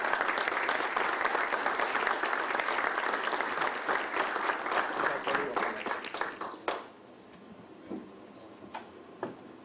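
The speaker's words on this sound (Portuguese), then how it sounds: "vamos uma grande salva de palmas receber aqui o Davi" Audience applause at a philosophy talk greets a speaker, brisk clapping that stays lively for several seconds, then thins to a few scattered claps before fading out.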